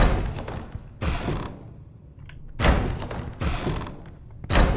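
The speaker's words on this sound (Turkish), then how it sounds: "Oynama lan kapıyla kapıyı bozacağım." A door in the horror video game The Baby in Yellow is banged repeatedly, with four heavy thudding slams and creaks coming at uneven intervals, loud and close, with short quieter gaps between them.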